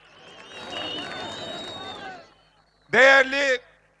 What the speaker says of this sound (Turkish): Kadim abiye de bir alkış.